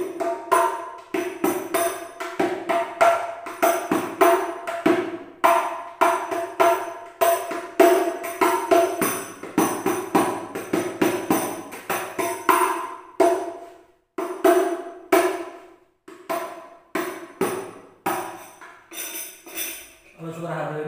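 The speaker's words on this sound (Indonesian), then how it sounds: "Nah, suaranya seperti ini teman-teman untuk hadro ya." Hadroh frame drums (rebana) with a bass drum, from a Narcala rebana workshop, played in dense rhythmic strokes, loud and close, with sharp slaps over deep thumps running steadily throughout.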